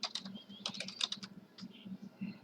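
Quick, close bursts of typing on a computer keyboard, with crisp individual key clicks in uneven runs and short pauses between them.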